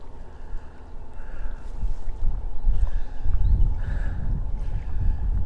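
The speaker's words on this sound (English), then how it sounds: "There's a boat going out into the Cape Fear River right now." A boat engine rumbles low and steady as it heads out onto the Cape Fear River, growing a little louder midway, with faint wind and no voices.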